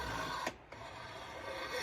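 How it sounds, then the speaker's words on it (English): A hand saw rasps through bamboo while cutting a jinashi nobekan shakuhachi flute, a steady close scraping broken by one brief pause mid-stroke. "this kind of sawing is very effective for shakuhachi"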